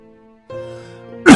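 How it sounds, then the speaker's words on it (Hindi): A man with failing health in a village house coughs hard in an audio drama, one sharp loud burst near the end after a stretch of soft tonal music. "लुई बहुत तेज खांस रहे हैं।"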